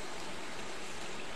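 Coconut milk (gata) poured into a cooking pot for laing makes a soft, steady, hissing pour, faint and continuous for just over a second with no talking.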